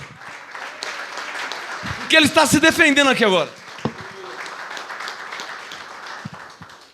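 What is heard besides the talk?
congregation applauding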